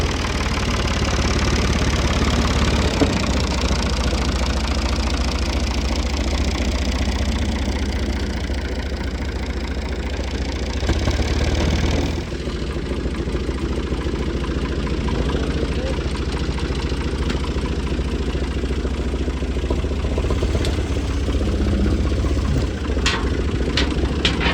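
A small tractor engine idles steadily and fairly loud outdoors while it lifts a plant, a constant low rumble with a slight dip midway and faint voices in the background.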